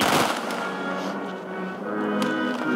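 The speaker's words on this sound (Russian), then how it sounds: "В морозном воздухе салют." A fireworks salute bursts in frosty winter air at a memorial rally marking the lifting of a wartime siege, with dense crackling and popping explosions rolling continuously, fairly loud and close.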